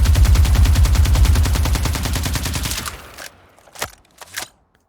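Automatic weapon fire from a video game, reworked with added bass, a rapid, loud, booming string of shots that cuts off and is followed by a few quiet mechanical clicks and clatters.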